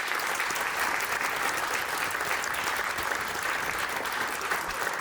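Steady applause from a concert audience at a municipal event in Divača, dense clapping that holds evenly throughout without pause or voices.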